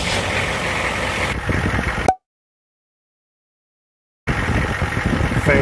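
A Humvee (HMMWV) engine runs with a steady rumble and vibration, cuts to silence for about two seconds, then returns to an even idle.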